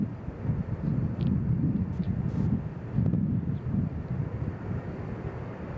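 A WestJet airliner departs Nashville International Airport, a low rumbling jet roar with gusty wind noise, heard steady and moderately distant throughout with no talking.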